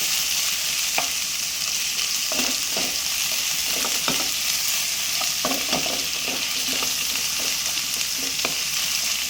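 Tomatoes frying in oil for an egg curry gravy, a steady dense sizzle filling the whole stretch with repeated scraping stir strokes of a spoon against the pan, close and continuous, with no voices.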